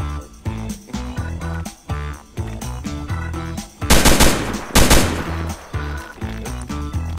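Gunshots from the Roblox game Fallen hit in rapid automatic bursts, with dense repeated cracks running throughout and two especially loud, sustained volleys near the middle, close and punchy, with no voices over them.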